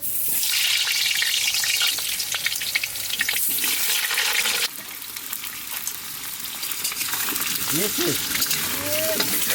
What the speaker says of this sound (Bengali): মাংস রান্না করার জন্য আমি আলুটা ভেজে নেব আগে